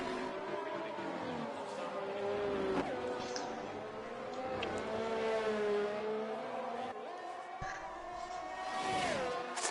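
Race car on soft tyres lapping the Canada track, a thin, fairly faint engine whine that rises and dips through gear shifts, with no one talking.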